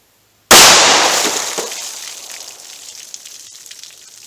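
A single 180 grain .357 Magnum handgun shot fired into water jugs cracks loudly and abruptly, followed by a long fading wash of splashing and ringing decay.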